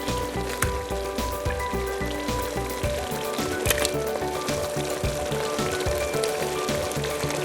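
Chicken pieces frying in masala paste for biryani, a steady dense sizzle with crackling pops continuing evenly throughout, with no voices over it.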